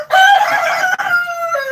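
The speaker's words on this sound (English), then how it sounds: "They don't like when each other crow." Rooster crowing in a backyard flock, one long loud cock-a-doodle-doo close by, with a second bird's crow overlapping near the end.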